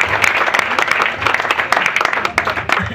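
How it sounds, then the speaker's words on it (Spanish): Audience applause at a book launch for a collection of poems: dense, steady clapping from a seated crowd that holds at an even level for the whole stretch, with sharp individual claps standing out and possible faint voices mixed in. "Un aplauso para él, por favor"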